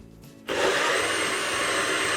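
A blender switches on abruptly and whirs at a steady, loud, high-pitched roar while blending vodka sauce, running continuously with no talk.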